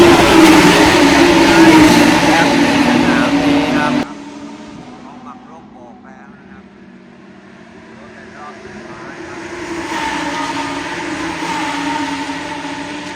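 Lamborghini Huracan Super Trofeo Evo2 race cars roar loudly past at a race circuit, engines howling in a dense burst, dropping off, then swelling back as more cars approach, with voices talking over the din.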